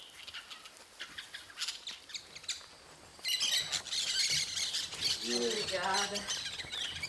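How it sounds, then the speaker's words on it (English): Parakeets, macaws and other birds in the Pantanal wetland of Brazil screech and squawk constantly. The calls are harsh and overlapping, and they swell louder partway through over a dense background of wildlife. "The screeching and squawking of parakeets, macaws and other odd birds never ceases."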